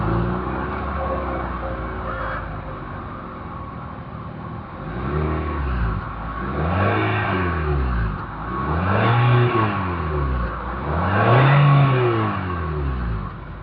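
A 2025 Mitsubishi Outlander's exhaust rises and falls through four repeated revs, each swelling then dropping back to idle, close and loud with no talk.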